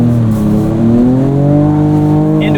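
A 2024 Ford Ranger Raptor drifts on a track, its engine revving loudly and steadily with a rising, wavering drone as the truck slides sideways, close and continuous throughout.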